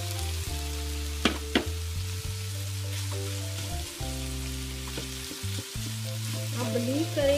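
Rice fries and is stirred in a pan for vegetable egg fried rice, a steady close sizzle with scraping stirs and small crackles running throughout, while a low droning hum sits underneath and no one speaks.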